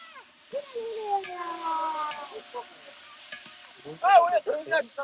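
Onions fry in a pan for poha in a Gujarati village kitchen, giving scraping stir strokes and a soft sizzle, while voices are heard around the cooking.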